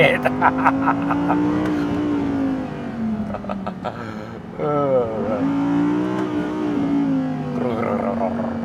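A 2022 Audi R8 Coupe V10 Performance RWD engine wails and climbs through the gears, loud and close, with its pitch sweeping up and down as it accelerates.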